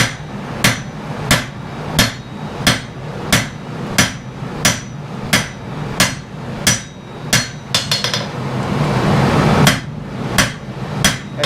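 A hammer strikes hot steel on an anvil while forging a blade, about fourteen sharp, evenly spaced ringing blows at close range, with a brief flurry of quick taps and rising forge roar near the end. No voices.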